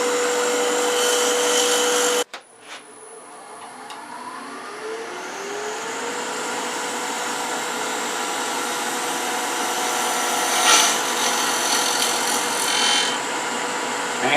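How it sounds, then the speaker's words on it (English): Wood lathe spinning a workpiece for a wheelie bug pull toy while a 3/8 inch spindle gouge rounds it over, a steady whine after a sharp cut-off, then a continuous scraping hiss. "I'm going to take a 3/8 inch spindle gouge and just round it over"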